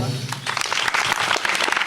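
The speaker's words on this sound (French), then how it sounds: "On peut l'applaudir." A small gathering claps for Ginette after her testimony: after a brief voice at the start, a dense, steady patter of applause builds and fills the rest of the moment.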